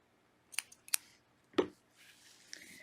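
Scissors trim a yarn tail on a crocheted dishcloth, giving two or three crisp close snips in quick succession, followed by a soft rustle of handling the cloth with no talking.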